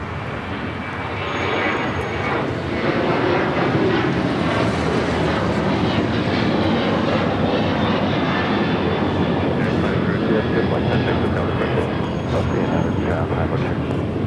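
An American Airlines jet takes off from runway 25 right at LAX, its engines making a loud, steady roar that holds at full strength without a break.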